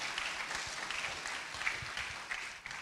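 Steady audience applause at a live arts awards ceremony in honour of the Asantehene, a dense wash of clapping that holds at an even level throughout.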